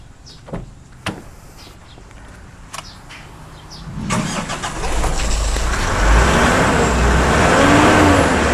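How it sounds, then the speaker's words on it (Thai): A few clicks and clunks come first, then a diesel car engine cranks and starts during an exhaust-pipe cleaning and is revved into a loud, sustained roar. "ต่อไปคือจะสตาร์ทเครื่องแล้วก็เร่งนะครับ"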